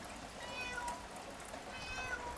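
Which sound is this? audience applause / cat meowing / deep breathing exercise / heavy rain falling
cat meowing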